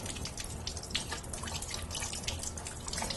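Water rinses soap off a baby during a bath, with soft, quiet trickling and dripping that runs on steadily, close by and without voices.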